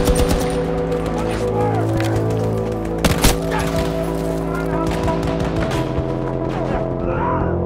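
Machine gun fire in Battlefield 2042 on a snowy Conquest battlefield, dense sustained bursts and distant shots over constant game noise and rumble, with a loud crack around the middle.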